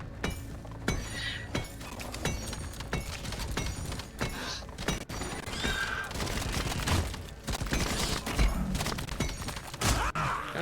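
An automated turret in Deep Rock Galactic fires in a busy mix of sharp cracks, impacts and clinking debris, with dense, irregular bursts throughout.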